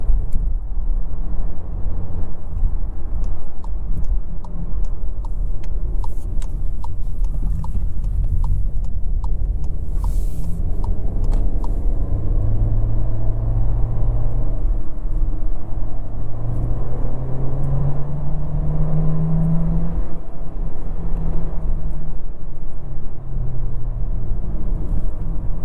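A 2024 Volkswagen Jetta SEL's 1.5-liter turbo engine accelerating in sport mode, a steady loud rumble from inside the cabin with engine tone climbing and falling through the gears, no talk.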